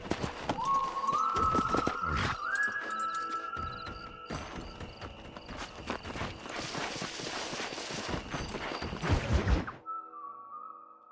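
Horse hooves clip-clopping on the ground in Red Dead Redemption, with a snort or whinny among close footfalls in a steady walking rhythm, over game ambience and a whistling tone, ending abruptly.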